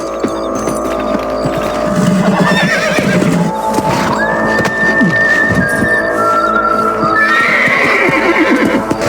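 Horses in a Red Dead Redemption game scene whinny and neigh loudly and close, with clip-clop hooves and game ambience running underneath throughout.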